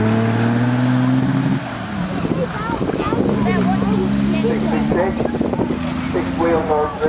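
A six-wheel-drive armoured vehicle drives at a farm, its engine droning and shifting in pitch close by while someone talks over it continuously.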